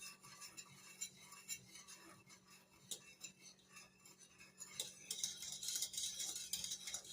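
A spoon stirs vanilla pudding in a pot, giving faint, quiet scraping and light clinks that repeat steadily against low background hum, with no talking.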